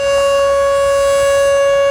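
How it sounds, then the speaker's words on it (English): A steady, loud curfew siren in a northern Saskatchewan community, sounded nightly at 10 o'clock, wails in one unbroken tone throughout, close and continuous with nothing else over it. "People are ordered home by the sound of a siren every night at 10 o'clock."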